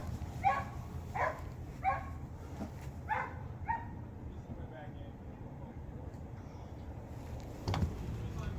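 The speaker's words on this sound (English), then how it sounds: "Dude, we got dogs out here." Outdoors, several dogs bark in a quick burst of about six sharp, mid-distance barks over a few seconds, then fall quiet against a low background rumble.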